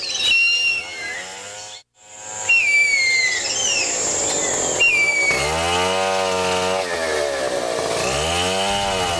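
Loggers' chainsaw cutting kumaru hardwood trees in a forest, the engine whining and revving loudly with a short pause, then a steady, throbbing high-pitched drone, mixed with bird whistles.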